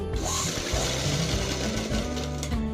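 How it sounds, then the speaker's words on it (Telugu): A sewing machine stitches the lining of a patchwork blouse with a samosa design. It gives a continuous, close, loud mechanical whir with a fast rhythmic needle chatter and no talking. "చూపిస్తున్న విధంగా లైనింగ్ వైపు స్టిచ్ చేసుకుని"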